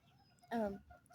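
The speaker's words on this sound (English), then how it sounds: "these chickens are really distracting" Chicken making a brief, fairly loud cluck or squawk at close range, rising over a quiet outdoor background with faint noise before and after.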